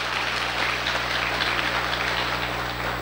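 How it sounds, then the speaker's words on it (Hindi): Sustained audience applause in a hall during a motivational speech, steady dense clapping that stays loud and even from start to finish with no voices over it. "अगेन हम चाहेंगे जोरदार ताली।"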